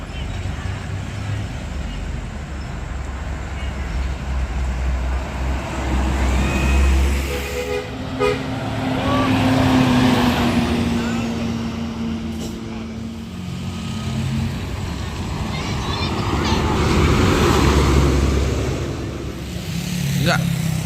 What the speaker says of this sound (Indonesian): Nanti kita hunting-hunting sebentar bus-bus apa saja yang sudah lewat di depan sini